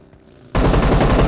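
Gunfire in PUBG Mobile: after a quiet moment, a sudden loud burst of rapid automatic shots fires continuously to the end.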